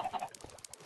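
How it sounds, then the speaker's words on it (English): Soft clucking from chickens packed into a Minecraft FTB chicken farm, a few brief, faint bird calls in quick succession at low volume. "I got a whole crap ton of chickens in here"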